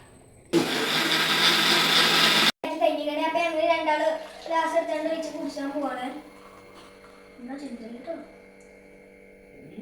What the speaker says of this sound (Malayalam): നമുക്കിതൊന്ന് അടിച്ചു കൊണ്ടുവരാം